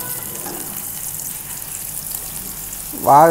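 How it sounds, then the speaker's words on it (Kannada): Green chillies fry in oil in a pan for ghee poha, a steady close sizzle throughout, with a brief burst of louder crackling at the end. "ಅದಕ್ಕೆ ಫಸ್ಟ್ ಆಯಿಲಲ್ಲಿ ಈ ಥರ ಫ್ರೈ ಮಾಡ್ಕೋಬೇಕು ನೋಡಿ. ಇಲ್ಲಿ ಫ್ರೈ ಆಗ್ತಾಯಿದೆ ನೋಡಿ."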